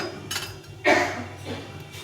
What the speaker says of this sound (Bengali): এখন একটু ঢাকা দিয়ে সেদ্ধ করে নিতে হবে।